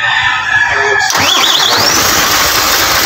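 An overheated, smoking car engine cranks and catches, a short starter whirr giving way to a loud, close running roar with a rising whine as it settles to idle.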